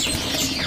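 Caged magpie robins (murai) at a bird market give a brief burst of overlapping chirps and whistled calls against busy background noise.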